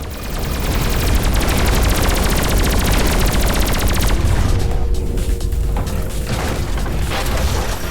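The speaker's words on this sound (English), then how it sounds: "Attention! Missiles were deployed." Space combat in the Everspace 2 video game erupts as missiles deploy, with a loud, dense, continuous barrage of rapid firing and booming explosions that pound on for several seconds.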